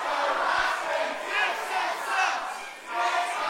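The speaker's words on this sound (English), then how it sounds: "in front of a raucous crowd in Canterbury." A raucous wrestling crowd in Canterbury roars and chants in swelling waves, loud and close, with rhythmic surges of cheering filling the whole arena.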